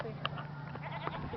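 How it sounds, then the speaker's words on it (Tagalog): A goat bleats a couple of times at a farm, short wavering cries mid-distance, with faint voices and background chatter around it. "May kambing!"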